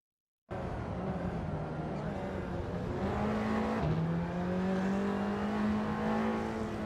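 A race car engine heard from onboard at the start of a sim-racing event at Long Beach, California, a loud sustained drone that climbs in pitch through gear changes, close and continuous with no talk over it.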